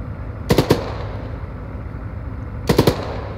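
Arma 3 machine gun fire: two short bursts of three or four rapid, loud shots each, about two seconds apart, over a low steady rumble of ambient noise.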